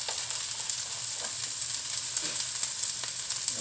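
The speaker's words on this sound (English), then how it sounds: "you want to form this into some patties and fry it up in some butter" Oat patties frying in butter in a pan give a steady close sizzle with small pops and crackles scattered throughout, with no voice over it.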